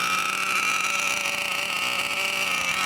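A Dynamite .31 gasoline engine runs during break-in, a loud, continuous high-pitched buzzing drone that holds steady without pauses.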